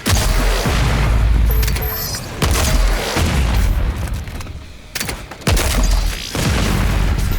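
Shotgun in an FPS video game fires full auto with grenade rounds, a run of loud, crisp booming blasts in quick bursts with short gaps, each explosion heavy and close, no voices.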